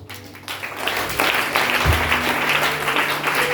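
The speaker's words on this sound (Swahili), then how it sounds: "Kwanza tutajipigie makofi." A church congregation applauding together, a dense crowd of claps that swells after a thin start and holds steady and loud to the end.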